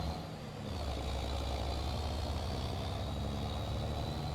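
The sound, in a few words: old truck engine idling in Farming Simulator 22 video game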